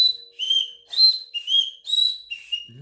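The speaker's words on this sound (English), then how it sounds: "Loving this whistle." A whistle blown in five separate bursts with short gaps, each a clear shrill tone that bends slightly, close and loud, with no talking.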